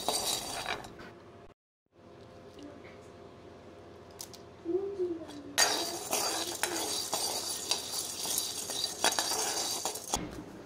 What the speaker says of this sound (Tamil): இப்போ அதே வடச்சட்டியில் நம்ம வந்து அரைக்கப்பு பொட்டுக்கடலையும் அரைக்கப்பு நடுக்கடலையும் போட்டு வறுத்து எடுத்துக்கலாம்.